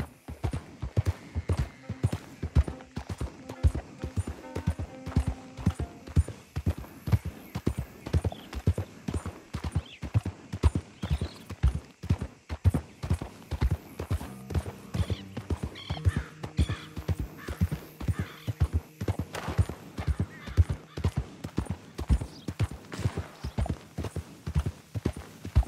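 Horse hooves clip-clop steadily at a walking pace in Red Dead Redemption 2, a close and continuous rhythmic clatter, with a neigh breaking in partway through.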